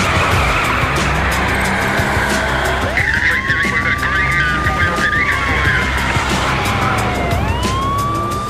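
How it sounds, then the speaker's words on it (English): A car in a high-speed police chase, with a loud, continuous engine roar and tires skidding, while a siren rises and falls over it through the middle and end. "He took off and that kicked off a police chase, a high-speed chase."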